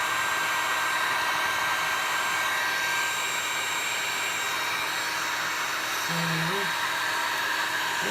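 Heat tool running at a middle heat setting blows over resin, a constant close, loud, even whooshing roar lasting the whole time.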